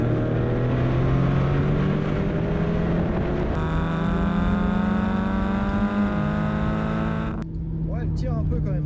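A Hyundai Coupé GT engine pulls hard under acceleration from inside the moving car, a loud steady drone whose pitch climbs through two gear changes, with voices of people talking inside the cabin over it.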